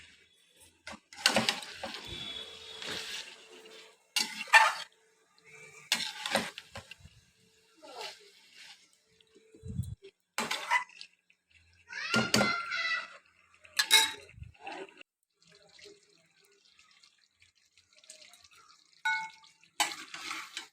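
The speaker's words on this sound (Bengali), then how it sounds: "দেখো আমি কষাচ্ছি মাংসটাকে" Chicken marinated with gondhoraj lemon leaves is stirred and sautéed in a pan in its own released juices, with intermittent scraping and clinking strokes of a spoon against the pan separated by quiet gaps.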